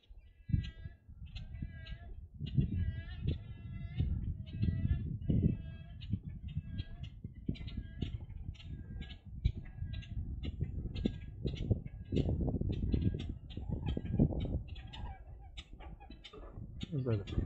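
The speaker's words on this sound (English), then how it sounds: "Now I got some smaller birds over here making a little bit of chirping noises and stuff." Small birds chirp and call at Wakodahatchee Wetlands in Palm Beach County, with repeated short calls over a continuous low rumble of background noise and other bird sounds.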